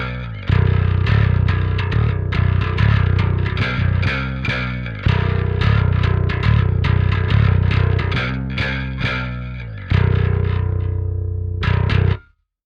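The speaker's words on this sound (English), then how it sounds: "using the mid drive control, we can apply distortion specifically to the mid frequencies" Parallax X bass plugin with mid drive set to 50%, giving gritty mid-frequency distortion on a driving bass line of steady repeated notes that stops abruptly after a final chord.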